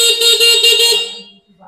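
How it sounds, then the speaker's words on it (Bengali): A loud electric bike horn sounds alone in one sustained, warbling, pulsing tone that lasts about a second before cutting off, with a faint low hum left behind. "আর হর্নটা হচ্ছে সুমিষ্ট হর্ন"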